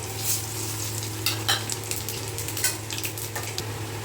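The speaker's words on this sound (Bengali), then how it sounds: "দেখো আমাদের ফোড়ন কিন্তু খুব সুন্দর করে ভাজা হয়ে গেছে" Whole spices temper in hot oil left from frying pointed gourd, giving a close, lively crackle and sizzle with stirring scrapes and bursts of spitting, fairly loud and without talk.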